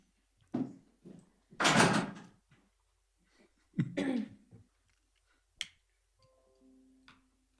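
A door opening and closing during a county Board of Commissioners meeting, a few scattered knocks, thumps and a sharp clack spread through a quiet room, with a faint tonal beep near the end.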